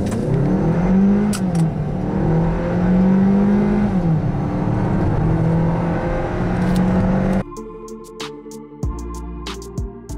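A Hyundai Tucson N Line's turbocharged 1.6-litre, 177 hp petrol engine drones loudly from inside the car as it revs and pulls, its pitch rising and falling for several seconds before giving way to music.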